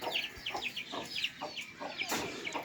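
A hen clucks in short, repeated bursts at a steady rhythm, moderately near and fairly quiet, in a village yard with faint background noise.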